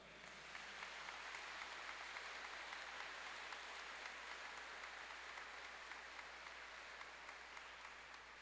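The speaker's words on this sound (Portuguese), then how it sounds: "uma salva de palmas bonita" A church congregation applauds during a Holy Saturday homily, a steady continuous wash of many hands clapping that sounds distant and faint, with no voices over it.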